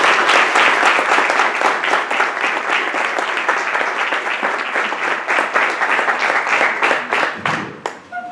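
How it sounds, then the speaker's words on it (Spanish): An audience applauds at a book launch event in Chile, a dense burst of clapping that stays strong for several seconds before thinning out and fading at the end. "Un aplauso."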